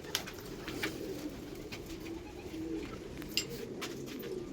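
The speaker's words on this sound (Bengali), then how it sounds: "এই পায়রা নামলো এক পিস নেমেছে" A pigeon landing among a kept flock, with soft low cooing and faint chirps over a quiet outdoor background, occasional brief flutters or taps.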